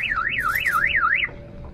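A car alarm chirps close by in a rapid warbling tone, about six quick up-and-down oscillations lasting just over a second before cutting off, leaving quiet background noise.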